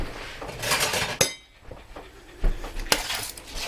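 Metal tongs clink and scrape against a pan while homemade BBQ panzerotti are served, a few sharp close clinks separated by short pauses, with no talking.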